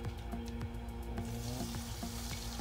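Food fries in a Loco fryer basket, giving a busy, continuous bubbling sizzle with sharp crackles and pops, close and fairly loud, alongside a steady hum.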